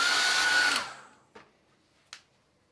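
A hair dryer blows on a watercolour painting, a loud close whoosh that cuts off and winds down within a second, followed by two faint knocks.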